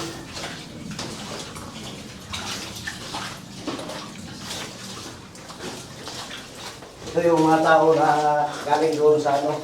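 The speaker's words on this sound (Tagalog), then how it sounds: "Yung tubig na nanggagaling doon, dito dumadaan sa gitna." Water runs and splashes steadily through a cave with voices talking over it, the flow growing louder and more gurgling near the end.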